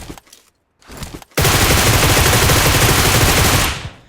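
Sustained burst of automatic gunfire in the PUBG Mobile (BGMI) battle royale game, loud and dense for over two seconds after a few shorter shots, with no talk.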